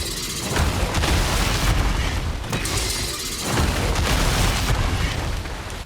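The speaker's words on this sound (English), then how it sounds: "the explosion that occurs at Garangolm's right arm to launch it" A loud, sustained booming blast from the monster Garangolm's right arm in a video game rumbles continuously, with deep roaring energy and a second surge partway through, and no talking.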